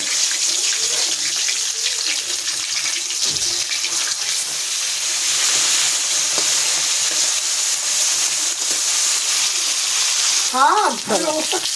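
Fish fries in a pan with loud, continuous sizzling and crackling that holds steady throughout, with a short burst of voice-like sound near the end.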